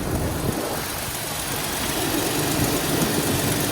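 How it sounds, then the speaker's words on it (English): A 1994 Jeep XJ Cherokee engine idles rough just after a fuel injector install, a steady close broadband mechanical rumble and hiss with slight unevenness, running alone without voices. "It's going to idle rough."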